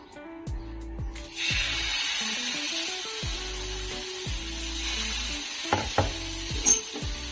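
Wheat flour batter sizzles and fries on an oiled griddle, a steady hiss running throughout with repeated low thumps and scraping knocks of a spatula against the pan, close and moderately loud, with no talking.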